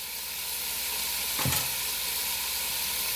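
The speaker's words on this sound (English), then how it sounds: "When I throw my burger in, I'm going to throw the onion in." Burger meat and onion sizzle in a hot pan for cowboy BBQ baked beans, a continuous bright frying hiss with one brief louder thump and scrape midway, close and alone without talk.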